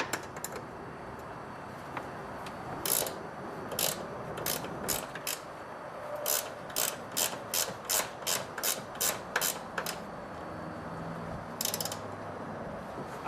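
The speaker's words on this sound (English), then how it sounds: "Then you have two 12mm nuts in here. Go ahead and take them out." A ratchet wrench removing two 12mm nuts from the suspension of a Nissan 240SX, rapid clicking bursts repeated in a steady rhythm, close and clear with no talk.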